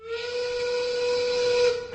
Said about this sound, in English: Work whistle.